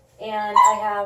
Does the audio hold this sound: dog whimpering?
yes